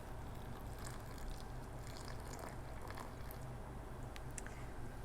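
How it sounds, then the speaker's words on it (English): Hot vinegar brine for summer pickles is poured through a canning funnel into a glass jar, giving a soft, steady liquid trickle and fill sound that stays faint and close. "you just don't want to go splashing hot vinegar all over"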